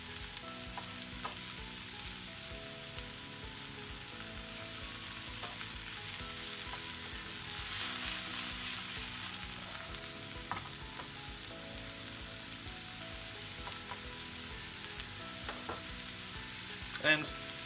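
Mushrooms fry in oil with a steady, even sizzle that holds throughout, with a few faint clicks of stirring near the end.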